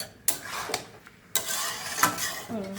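Spoon scraping and clinking against a pot of Bengali bhuna khichuri during stirring, a few sharp metallic strokes with a soft sizzle between them, close and fairly quiet.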